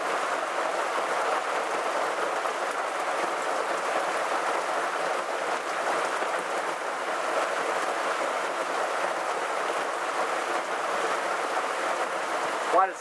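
Heavy rain pouring down in a storm outside, a dense, steady hiss of downpour heard from indoors at moderate level, with a voice speaking over it.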